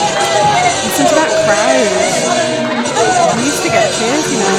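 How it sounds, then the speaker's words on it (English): A wrestling show crowd fills a hall with continuous loud cheering and chatter, a dense wash of voices with individual shouts rising above the roar. "Listen to that"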